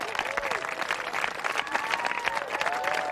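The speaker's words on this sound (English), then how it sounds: "Would you give her a round of applause?" Applause from a crowd at a New Hampshire campaign town hall for a campaign staffer, a steady dense clapping over about three seconds with some crowd voices mixed in.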